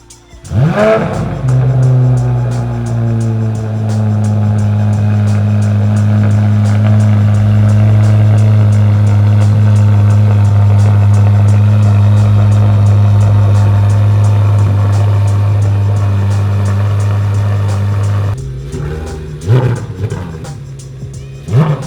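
A Corvette C8 Z06 engine with a Paragon cat-back exhaust starts with a rev, then idles loudly with a deep, steady exhaust rumble for a long stretch before blipping the throttle and cutting off.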